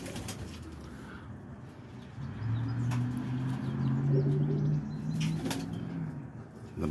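Boston ripping roller pigeons coo in low, rolling phrases close by, with occasional wing flaps and sharp clicks among the flock; no talking.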